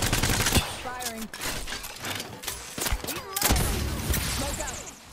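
Bursts of gunfire crackle through an Apex Legends firefight, rapid sharp shots clustering and thudding in uneven volleys, with voices talking partly over the shooting.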